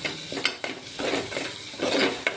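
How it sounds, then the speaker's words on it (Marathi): Kolhapuri mutton masala roasting in a pan, soft scraping stirs and gentle sizzle in short bursts with small utensil clicks, quiet and close. "इथे हे मसाला थोडासा भाजला"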